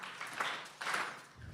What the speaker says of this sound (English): you all will clap 3 times